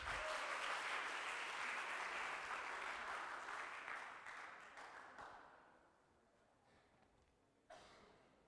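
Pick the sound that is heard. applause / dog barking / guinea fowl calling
applause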